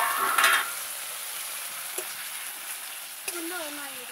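Onion and tomato fry in a pan with a steady, close hiss and sizzle, broken by a few sharp taps of a utensil against the pan.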